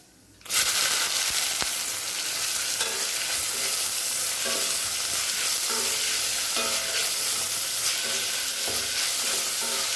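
Three finely chopped onions hit hot oil with a bay leaf, cinnamon, clove, cardamom and cumin, bursting into a loud, steady sizzle that keeps crackling while the pan is stirred, with no talking.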